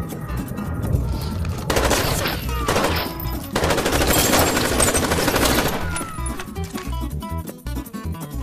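Rapid automatic gunfire from a sci-fi firefight against an alien, loud bursts of rounds filling most of the clip with brief gaps and a slight tail-off at the end.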